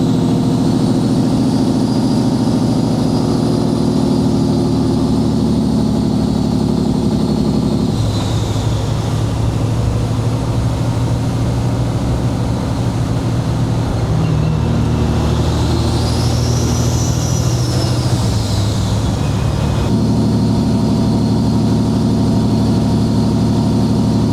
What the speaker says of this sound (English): right here, I'm using the Jake brake out of here